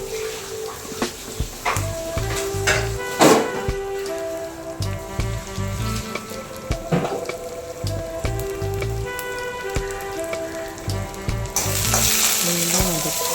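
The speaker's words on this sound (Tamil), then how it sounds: "நல்லா வதக்கிக்கிறோம். கருக விடக்கூடாது, அதனால் நம்ம நல்லா வதக்கிக்கிறோம்." Crushed garlic sautéing in oil in a pan while cooking greens, a loud close sizzle with repeated stirring and scraping of a spoon against the pan, steady throughout, no talking.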